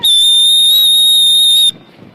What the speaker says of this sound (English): I forgot my whistle on that one, so I whistled with my lips.